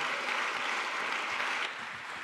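An audience at a digital civil society gala applauds, steady dense clapping from a crowd that stays even, then drops slightly toward the end.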